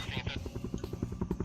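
Helicopter in the video game Ultimate Factory Tycoon, a rhythmic rotor thump pulsing steadily beneath someone talking over it.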